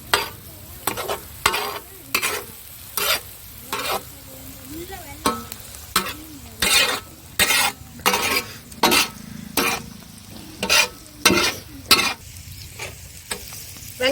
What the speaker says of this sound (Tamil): வெங்காயம் எல்லாம் நல்லா வதங்கிருச்சு.